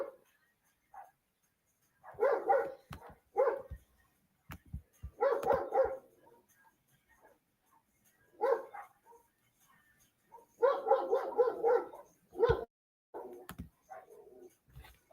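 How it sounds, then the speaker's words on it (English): A dog barks in repeated bursts, clusters of sharp barks separated by pauses, close and loud with no talking over it. "Man, the dog is going nuts."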